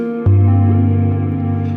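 A loud electric guitar chord enters abruptly and rings on, sustained and smooth, washed in a long reverb from a Meris Mercury X pedal that keeps it hanging steady, with no talking.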